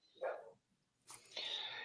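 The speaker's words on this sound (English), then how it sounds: "That's my dog you can probably hear in the background" A dog barks in the background, two short muffled barks a second apart, fairly faint and distant, with no talk over them.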